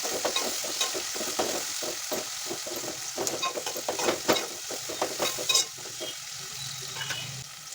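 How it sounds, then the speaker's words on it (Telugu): Spring onions fry in hot oil in a pan for okra pulusu, giving a continuous crackling sizzle broken by irregular scraping strokes of a stirring spoon. "ఇప్పుడు స్ప్రింగ్ ఆనియన్స్ వేసి వేయించుకోవాలి"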